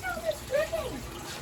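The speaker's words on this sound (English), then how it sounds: "He's getting dripped on. I have to fix the leak somewhere." Water dripping from a leak in a greenhouse roof, a few soft, close trickling drips with a faint liquid splash.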